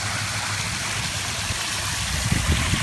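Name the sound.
water flowing from pool waterfall feature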